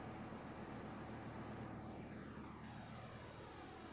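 Aircraft engines at an airport in the video game Microsoft Flight Simulator X, around Shanghai, give a steady, broad roar with a faint pass-by sweep partway through, with no voices over it.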